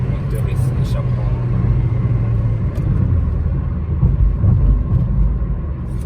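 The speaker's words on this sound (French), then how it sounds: "le bruit de l'essai du moteur et échappement" A Ford Focus 2 sedan's 100-horsepower engine idles with its exhaust running, a steady, loud low rumble that swells slightly at times, with talk over it.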